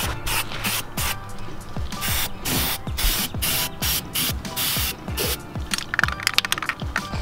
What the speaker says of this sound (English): Now we're spraying on our first coat of bed liner